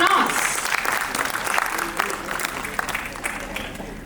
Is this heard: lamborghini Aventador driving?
no